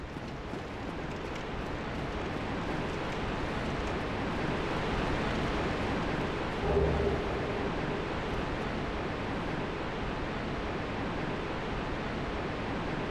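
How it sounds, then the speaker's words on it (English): A sewer waterfall in Dark Souls: Remastered roars as a steady, broadband rushing wash that stays even and continuous throughout, with no voices. "The depths sewer waterfall."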